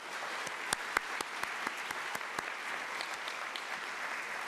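Audience applause at a college staff kickoff gathering, a soft, distant wash of many hands clapping evenly with a few sharper individual claps standing out.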